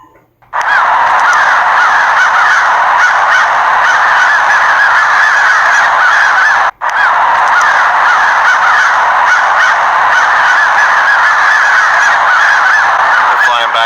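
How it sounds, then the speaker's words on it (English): A large flock of crows calls continuously around wooded land, a dense, loud chorus of honking caws that barely breaks for the whole stretch. "There were hundreds of crows this day."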